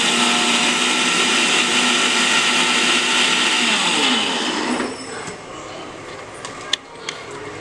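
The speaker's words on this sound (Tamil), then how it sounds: "அந்த கொஞ்சம் ஒரு சுற்றிட்டு கொஞ்சம் சின்ன வெங்காயம் போட்டு அரைச்சிடலாம்" A mixer grinder whirs loudly while grinding small shallots for fish curry, a steady motor whine that cuts off after about five seconds, followed by a few small clicks of the jar and lid.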